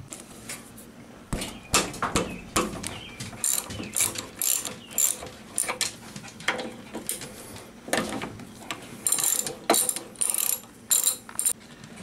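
Ratchet wrench with a 10 mm 12-point socket loosening front brake caliper bolts on a 2005 Harley-Davidson Road King, giving repeated bursts of close, crisp pawl clicking with short pauses between strokes.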